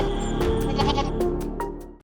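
A goat bleats in an animated Hindi story, giving a few wavering, nasal bleats in quick succession. The bleats are loud and close over a busy background, and no one speaks.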